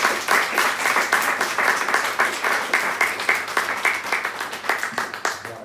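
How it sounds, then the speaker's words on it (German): A talk audience breaks into sustained applause, steady dense clapping from many hands that stays loud and even throughout, with no speech over it. "Erstmal einen riesen Applaus."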